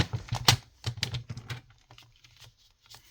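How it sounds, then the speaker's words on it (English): A paper cutter slicing through craft paper, a quick run of sharp clicks and scrapes that taper off into lighter taps, close and fairly quiet, with no voices. "let me just cut it with my cutter."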